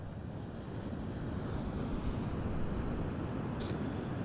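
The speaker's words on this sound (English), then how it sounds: "Lovely waves coming in," Continuous rumbling surf at the coast of Dublin, Ireland, with heavy wind buffeting the microphone, a steady low roar without distinct breaks.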